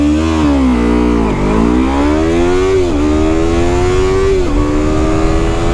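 A Yamaha R3 motorcycle accelerates hard from high revs, its engine note rising through several gear changes with short dips between shifts, loud and close throughout.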